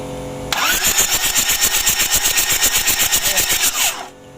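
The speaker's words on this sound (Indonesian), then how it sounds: "Oke, kita coba dulu, kita starter." A rebuilt Mitsubishi L300 engine cranks on its starter motor for about three and a half seconds, a loud, steady rhythmic churning that never catches, then stops abruptly.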